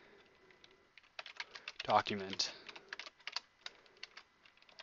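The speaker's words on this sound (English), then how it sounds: "we're going to type" Someone types on a computer keyboard in quick irregular bursts of soft clicks, with someone speaking briefly over the keystrokes in the middle.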